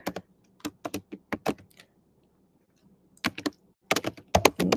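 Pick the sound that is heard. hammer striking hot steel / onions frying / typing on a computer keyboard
typing on a computer keyboard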